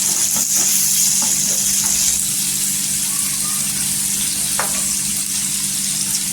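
Chopped onion sizzles steadily as it fries soft in a pan for a spicy potato dish, a constant close hiss of hot oil with faint stirring clinks throughout.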